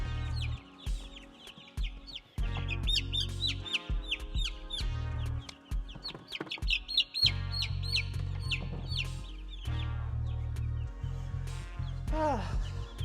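Several chickens cluck and chatter continuously, close by, with repeated short clucks and a few higher squawks over a low background rumble.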